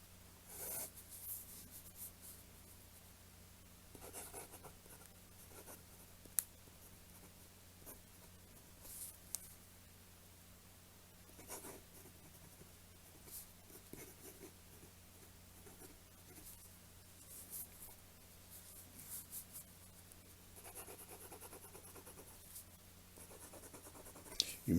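Quiet scratching of a fine-nib Natami Inception fountain pen moving across paper in short strokes and pauses, faint and close, with occasional small taps.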